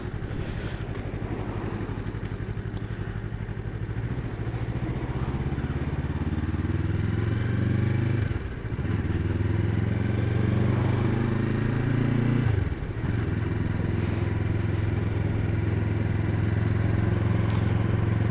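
A Yamaha MT03 motorcycle rolls at crawling speed around 20 mph in fourth gear, its steady low engine drone loud and close with slight pitch swells and two brief dips as throttle eases.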